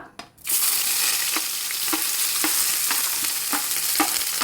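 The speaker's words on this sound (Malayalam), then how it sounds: "നമ്മൾ എടുത്ത് വെച്ചേക്കുന്ന ഉള്ളി പച്ചമുളക് കറിവേപ്പില ഇത്രയും അങ്ങോട്ട് ഇട്ട് കൊടുക്കുക" Onion, green chilli and curry leaves sizzle in hot coconut oil, a steady loud frying hiss beginning after a brief quiet start, with soft stirring clicks repeating at a regular pace throughout.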